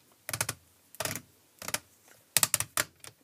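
Tight ratcheting clicks from the plastic knee joints of a Voltron Legendary Defender Black Lion toy, heard as short bursts of several quick close clicks separated by pauses, with no talking.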